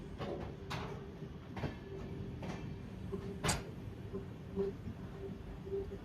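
Inside the 10115 Madgaon Express on the Konkan Railway, the rolling rumble of the train runs steadily. Sharp, rhythmic clacks from the wheels over rail joints recur every second or so, moderately loud, with no talking.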